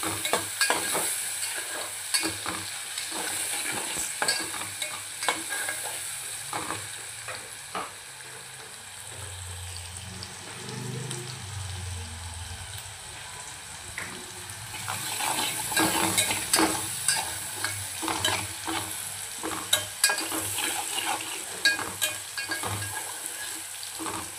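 Onions sauté in a pan with salt and turmeric for a mutton dish, giving a soft, steady sizzle under repeated scraping strokes of a spoon, with a brief quieter stretch midway.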